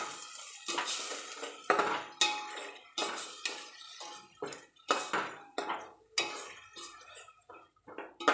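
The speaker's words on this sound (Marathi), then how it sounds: "त्यानंतर आपण टोमॅटोची ग्रेव्ही ॲड करणार आहोत व ती चांगली परतून घेणार आहोत." A spoon stirs and scrapes tomato gravy frying in a pan for pav bhaji, giving repeated close metallic clinks and scrapes in a steady rhythm.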